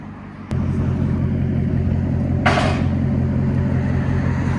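A 2015 Chevy Corvette with a 6.2L V8, high-flow cats and straight pipe fires up abruptly, then settles into a loud, deep, rumbling idle with a brief raspy blip of throttle partway through.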